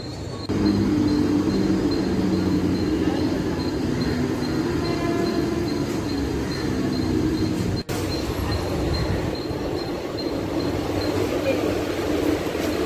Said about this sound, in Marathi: तर आता ट्रेनची वाट बघतोय